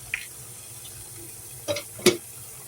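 Water bubbling in a covered pot of shrimp sinigang soup with onion, a soft steady liquid rush with a few brief splashy bursts, close and moderately loud, without talking.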